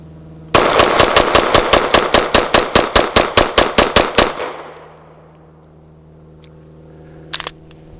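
Rapid pistol fire from a BRG9 Elite Gen 2 at an outdoor range: about eighteen sharp, evenly spaced shots in a quick string, loud and close, ringing out afterward, with a few faint clinks later.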